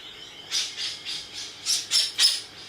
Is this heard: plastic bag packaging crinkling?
no